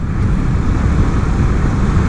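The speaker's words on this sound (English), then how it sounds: "you're talking about a 217 horsepower motorcycle" A 2024 Aprilia RSV4 Factory, a 217-horsepower sport motorcycle, is ridden at cruising speed, its engine droning steadily and loudly under heavy wind rush with no breaks or shifts.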